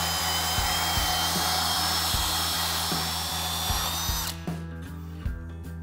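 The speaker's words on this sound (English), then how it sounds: "Rest the drill on the anti-rotation stop bolted on the frame, and power the drill clockwise to raise the deck" Power drill with a socket on the hex head raising the deck of a Country Clipper stand-up mower through the XCJack2 lift accessory, a loud steady whir with rhythmic clunks that winds down at the end.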